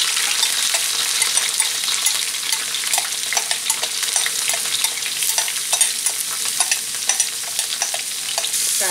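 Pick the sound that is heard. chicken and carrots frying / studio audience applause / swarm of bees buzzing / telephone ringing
chicken and carrots frying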